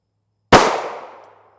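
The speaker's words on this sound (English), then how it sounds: "We will shoot this out of the pistol and the SBR and see what we get." A single loud, sharp report from an FN pistol firing 5.7x28mm 40 grain ammunition, with a short ringing tail that fades within about a second.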